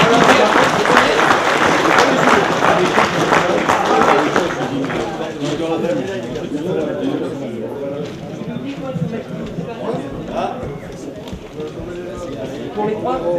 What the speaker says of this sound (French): le podium de l'épreuve technique Yamata, on les applaudit